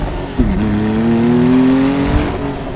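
A Porsche 911 Carrera T engine with a manual transmission pulls steadily upward in pitch, a smooth sustained acceleration heard close and loud with no voices.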